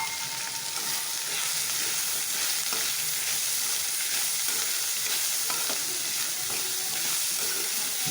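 Chopped radish fries in a hot pan and is stirred, with a steady close sizzle and hiss running throughout and occasional scraping strokes, without any talking.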